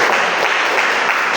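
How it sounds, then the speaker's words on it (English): A debating-meeting audience gives a round of applause, brief, dense and steady clapping close by. "can we give a round of applause?"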